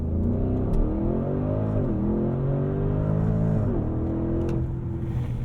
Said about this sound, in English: pinning the throttle, letting it build up a little